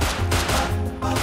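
Revolver gunfire in the survival game Rust, a rapid cluster of close, sharp shots during a firefight, packed into little more than a second.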